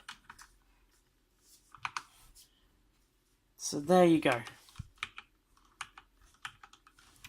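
A Corsair K65 keyboard clacks with scattered key presses, sparse and close, and someone speaks briefly in the middle.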